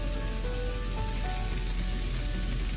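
A thinly sliced tomato sizzles as it toasts and wilts in a hot pan for Spanish-style asparagus and chicken sausage tapas, giving a steady, close, bright frying hiss that continues evenly throughout.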